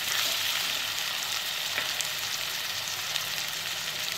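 Tomatoes cooking in a hot pan for pav bhaji give off a dense, continuous sizzle with a few light clicks of stirring, close up and with no voices.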